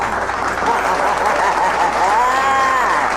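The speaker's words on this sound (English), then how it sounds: "give me a hand clap" Hand clapping from a crowd during a radio broadcast, a continuous dense clatter under a sustained tonal musical or vocal line, with voices faintly mixed in.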